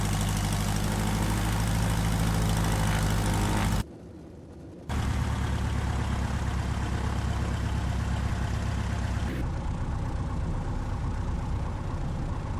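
Piper light aircraft engine idling during taxi in the Dovetail Games Flight School simulator, a loud continuous drone that briefly drops out then resumes steadily, with no talking.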